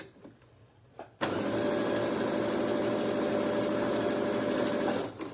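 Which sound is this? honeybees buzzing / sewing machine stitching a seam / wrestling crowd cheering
sewing machine stitching a seam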